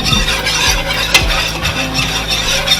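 Flour cooks in half a cup of melted butter in a pan for chicken pot pie sauce, giving a steady loud bubbling sizzle with a few scrapes and squeaks, no talk.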